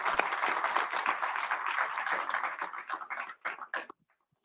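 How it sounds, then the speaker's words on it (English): A burst of audience applause at an alumni talk event, many hands clapping together fairly close, thinning into a few scattered claps before stopping abruptly. "May we have a huge round of applause."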